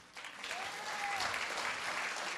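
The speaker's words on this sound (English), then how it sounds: "Oh, a round of applause." Steady applause from a live audience after a stage magic trick, a dense crowd of clapping that swells and holds through the moment, with a whistle rising over it.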